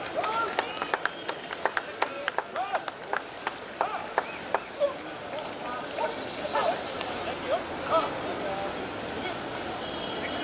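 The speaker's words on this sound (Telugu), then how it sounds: "ఒకటి గట్టిగా చప్పట్ల ద్వారా ఎంకరేజ్ చేస్తారని భావిస్తున్నాను." An audience claps at a public event in Ongole: a run of distinct claps that thickens into steady applause, with voices and crowd murmur underneath.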